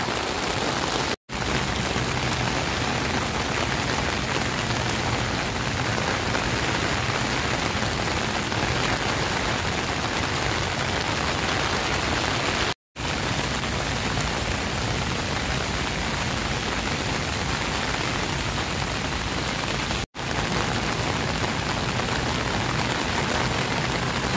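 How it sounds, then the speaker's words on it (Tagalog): Heavy rain pours down on Rizal Park in Luneta, falling without wind in a loud, steady, dense hiss that fills the whole stretch with no voices. "buti na lang guys, walang kasamang hangin itong pag-ulan"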